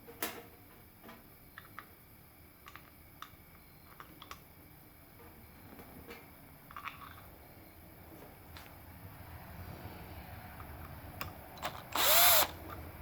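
Screws go into a welder cover with a power drill: scattered small clicks and taps of handling, then one brief, loud whirring burst of the drill near the end, with no speech.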